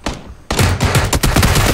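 Rapid bursts of gunfire from the PUBG battle royale video game, a loud run of close, repeated shots after a brief quiet start, with no talk over them.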